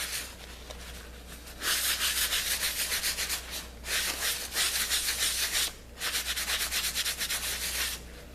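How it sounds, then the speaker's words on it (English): Wax being rubbed off a metal object to remove its high gloss, a steady, close scratchy rubbing in long strokes with short pauses between them and no talk. "the shiny points, you just rub it and it comes off"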